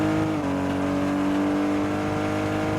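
Video-game car from Car Dealership 2 cutting off-road through jungle, a steady loud engine drone with a sustained hum that dips slightly early on, continuous and close throughout.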